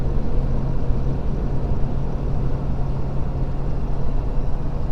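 A Ford Powerstroke diesel truck engine hauls a 14,500 lb load uphill in fifth gear, giving a steady, loud low drone with a constant hum and road rumble that runs unbroken from start to finish.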